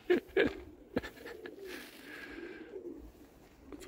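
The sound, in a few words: pigeons cooing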